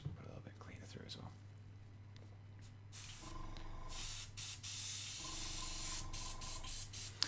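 An airbrush spraying cleaner through, heard as close hissing bursts, first a sustained spray and then short rhythmic puffs, over a faint low hum.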